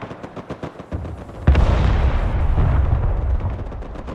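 Artillery fire in the war game Broken Arrow: a run of sharp rapid cracks gives way to one heavy, close boom, then a long rumbling roar of continued shelling.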